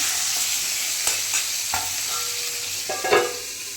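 Prawns sizzling in a hot kadai, a steady close hiss of oil broken by a few sharp scrapes and clinks of a utensil stirring, with no talking.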